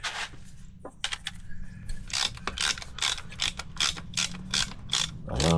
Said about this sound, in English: So I'm going to verify these right here with a gun.